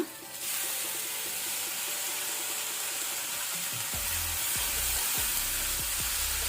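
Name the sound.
onion and tomato frying in a pan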